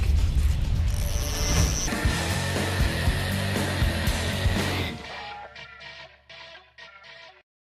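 Fishing reel rattles and whirs mechanically as a tungsten slither rig is cast, a busy ratcheting spin that drops away into a few faint clicks and taps before falling silent.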